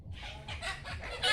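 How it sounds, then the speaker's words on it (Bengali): A desi chicken clucks just after being let loose, a quick run of four or five close, fairly loud clucks with no talking. "মুরগি ছেড়ে দিল আমার ভাতিজি।"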